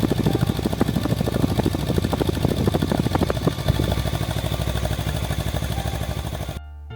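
A Kawasaki Versys X300 with a large exhaust idles close by, a steady rapid putter with even mechanical clatter that cuts off abruptly near the end.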